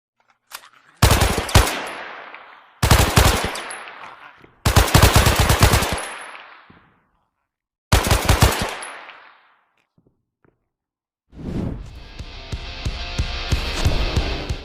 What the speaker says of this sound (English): you can face super realistic battles in an FPS that will really put your enemy killing skills to the test